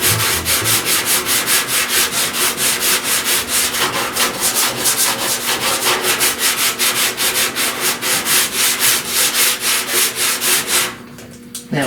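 Sanding block rubbing steadily back and forth across the door and fender panels of a 1969 C10 pickup, a loud, even rasping rhythm of regular strokes that stops abruptly near the end.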